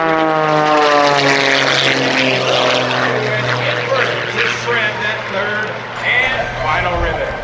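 Sean D. Tucker's aerobatic airshow plane roars past in low knife-edge flight about 18 feet above the ground at 210 mph, a loud continuous propeller drone whose pitch slides as it passes, with announcer commentary over it.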